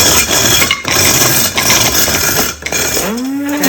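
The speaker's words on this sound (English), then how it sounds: "And I'm just going to grind them up. And this is just an old Cuisinart spice grinder." An old Cuisinart spice grinder grinding almonds, a loud continuous whirring rattle that runs nearly the whole time with a few brief dips, ending in a rising motor whine as it spins down.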